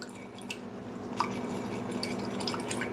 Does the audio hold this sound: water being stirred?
yes